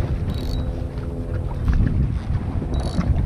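Strong wind buffeting the microphone, a constant low rumble with gusty swells outdoors on the shore of Sydney Harbour while fishing; no one speaks.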